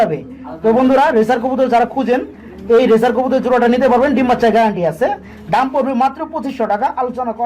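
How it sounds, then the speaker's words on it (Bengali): Fancy pigeons at a pigeon market give soft throaty coos close by, mostly half-buried beneath continuous loud male speech. "এখানে রয়েছে এক পিয়া শার্ডিং কবুতর"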